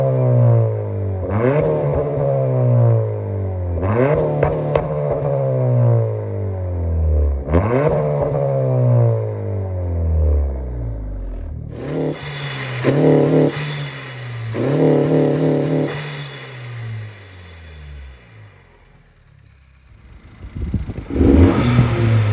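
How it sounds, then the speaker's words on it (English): An 11th-generation Honda Civic fitted with a 27won hybrid cold air intake revs repeatedly: several rising and falling engine sweeps close by, followed by sharper revving bursts and a louder, brighter pass. "I'm going to do some drive-bys, I'm going to do some revs"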